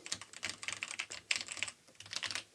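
Typing on an A1200.net mechanical keyboard made for the Amiga: a close, steady run of crisp key clicks with short pauses between bursts, heard alone.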